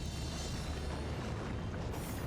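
An explosion in the video game Divinity: Original Sin, heard as a steady, dense low rumble and roar that holds for the whole stretch with no talk over it.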